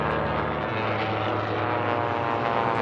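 Racing biplanes at the STIHL National Championship Air Races roar past on the course, a loud, sustained propeller-engine drone that swells and shifts in pitch as they go by.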